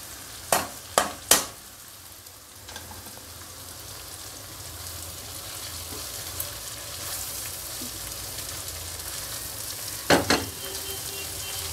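Soaked flattened rice (poha) hits a hot frying pan, raising a steady close sizzle with a few sharp stirring clacks at the start and again near the end.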